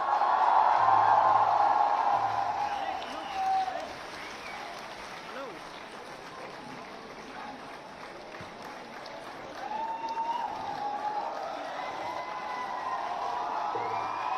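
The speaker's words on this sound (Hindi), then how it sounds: "तालियां रुकनी नहीं चाहिए भाई" Crowd applause and cheering at an outdoor environmental event as Chief Minister Yogi Adityanath and Sadhguru are invited on stage; loud, dense clapping at first that eases to a steady sustained patter, with a voice over the crowd.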